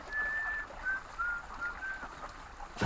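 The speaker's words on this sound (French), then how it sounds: "Écoutez le pinson qui chante" A chaffinch sings in a forest, giving short clear whistled notes and phrases that repeat at a moderate distance over a quiet, faintly rustling background.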